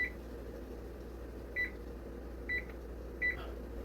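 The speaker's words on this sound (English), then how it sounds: "I'm going to set that timer for 15 minutes." Kitchen timer set for a roasting session gives short electronic beeps, about four evenly spaced chirps over a steady low appliance hum.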